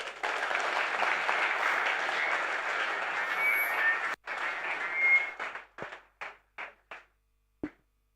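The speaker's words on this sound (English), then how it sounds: "May we please give another round of applause for our esteemed guest lecturer." An audience claps at a training-week celebration, giving a round of applause for a guest lecturer: dense sustained clapping for about four seconds, then a brief burst that thins into a few scattered final claps.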